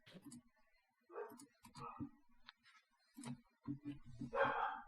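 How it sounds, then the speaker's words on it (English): A few dogs barking and yipping at a distance, short scattered barks mixed with people talking in a quiet room, faint overall. "now the dogs are barking like crazy"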